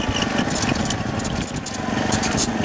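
A small motorized side-by-side tandem bicycle engine runs steadily at low speed, around 8 to 10 miles per hour, a continuous close buzzing drone with a light choke-related sputter, unbroken throughout.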